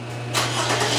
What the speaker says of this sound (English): All right, I'll pull my car back in.